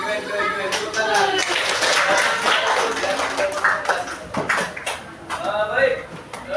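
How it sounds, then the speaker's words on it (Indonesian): Applause in a classroom breaks out, a group clapping together in a dense, lively burst that fades unevenly, with voices talking over it. "Tepuk tangan."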